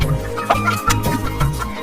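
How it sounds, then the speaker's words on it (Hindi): Chickens clucking in a flock kept by a village washerman, a busy overlapping run of short clucks and calls, fairly close and steady with no talk. "उसके पास बहुत सारी मुर्गियां थीं।"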